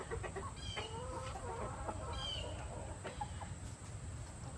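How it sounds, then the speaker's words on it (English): Chickens including a rooster clucking in a yard on a rainy day, soft scattered clucks over a steady hiss of rain, fairly faint and without talk. "That's a rooster."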